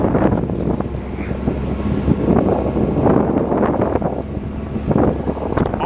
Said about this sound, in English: I know it's windy here.